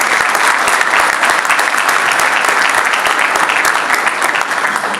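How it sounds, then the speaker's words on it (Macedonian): An audience at a university diploma ceremony in Strumica applauds the professors, dense sustained clapping from many hands, loud and continuous throughout with no pause. "Ве молам аплауз"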